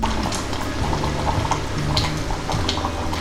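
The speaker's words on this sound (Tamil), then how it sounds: "இன்னும் 2 நிமிஷம் நல்லா கொதிக்கட்டும்" A pot of tamarind curry with turkey berries bubbles steadily at a rolling boil, a constant thick burbling with small pops breaking through, close and fairly loud, no speech.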